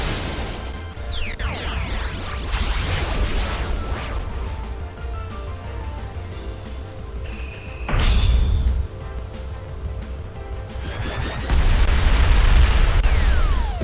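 Tectonic Rage Z-move in a Pokémon VGC 2017 battle: a dense stretch of rumbling, crashing game explosions and bursts, swelling into louder booming impacts near the end, with no talking.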